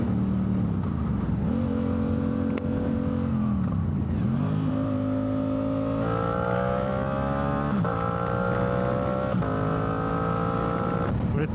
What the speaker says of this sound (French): Je vais rétrograder, je vais vous montrer ça.